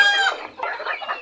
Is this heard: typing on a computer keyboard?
no